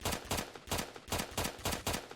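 Rapid automatic gunfire from a high fire-rate rifle in the Roblox game Oretary, with about six bursts of quick shots spread evenly across the clip, loud and close, and no voices.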